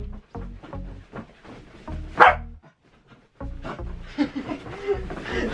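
A corgi barks in a home setting, a few sharp loud yaps mixed with whimpers, heard between and under a woman's French speech and laughter.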